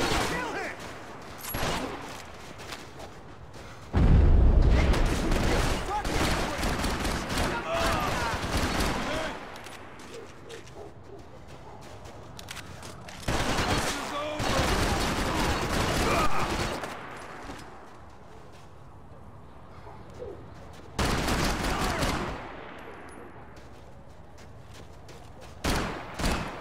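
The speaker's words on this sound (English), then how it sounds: "Gunfire over Hoboken." Gunfire in the Max Payne 3 video game over Hoboken: loud bursts of shots and rattling volleys come in clusters, with heavy impacts and quieter gaps between them, and game voices speak at times.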